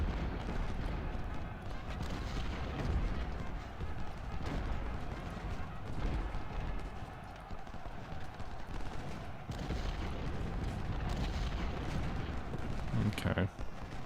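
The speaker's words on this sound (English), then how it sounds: "Guys are still shooting" Civil War battle gunfire and artillery from the game Ultimate General: Civil War at Fredericksburg, a steady dense crackle of distant musketry with scattered cannon thumps, continuous under someone talking.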